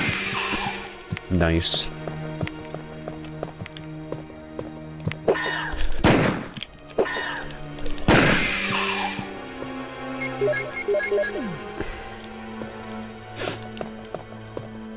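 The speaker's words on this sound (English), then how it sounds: "I'm just gonna, like, ready my gun and just fire." Gunshots fired at a hunter creature in the Resident Evil video game, a few sharp loud blasts spread across the stretch amid game music and effects, with a player talking over it.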